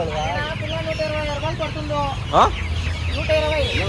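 Chickens cluck and squawk close by at a wholesale and retail market in Ananthapur, several overlapping calls with one sharp louder cry, while people bargain nearby.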